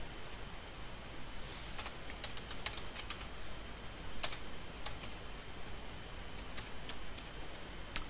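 Code being typed on a computer keyboard, a steady stream of close, quick key clicks with irregular rhythm over a constant background hiss, no talking.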